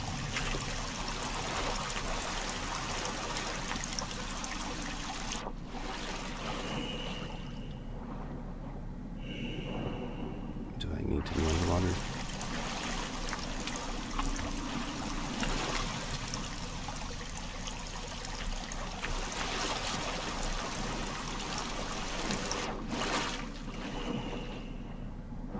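Steady flowing water in the survival video game Sons of the Forest, a continuous broadband rush of stream-like water heard up close and fairly loud throughout, with brief splashy bumps and no speech.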